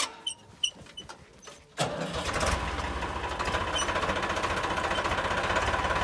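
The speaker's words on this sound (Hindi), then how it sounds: "भाइयों सरदार जी ने ट्रैक्टर स्टार्ट कर लिया।" A Farmtrac 45 tractor engine starts after a few scattered knocks, catching abruptly and settling into a loud, steady, close-up diesel chugging that continues to the end.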